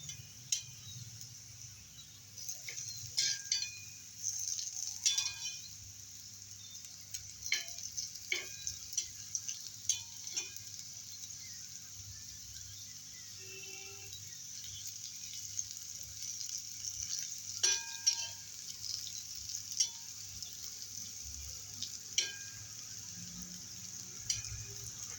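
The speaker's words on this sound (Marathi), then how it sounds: "आता हे काप आपण एका बाजूने चांगले फ्राय करून घ्यायचे आहेत." Potato slices fry in a pan with a steady high sizzle, scattered pops and crackles rising over a low continuous hum throughout.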